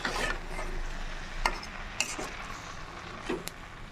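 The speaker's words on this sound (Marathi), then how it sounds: "हा आंब्याचा किस शिजवून घ्यायचा याला असं परतवत राहायचं हा बुडाला नाही लागला पाहिजे" Grated raw mango stirred in a pan as it cooks down for a jaggery mango preserve, a soft scraping stir with a few sharper clinks of the spoon against the pan at intervals, close and fairly quiet.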